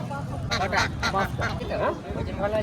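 Ducks quack in a busy cluster of calls at a market, mixed with people talking nearby.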